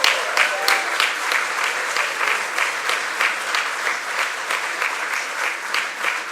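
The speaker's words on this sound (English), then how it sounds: "please join me in a round of applause to welcome our newest CFA charter holders" Steady, sustained audience applause fills the hall at an evening ceremony welcoming new CFA charter holders, with dense clapping holding an even level throughout.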